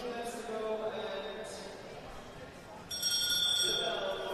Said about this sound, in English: And we heard the bell now, points in every lap.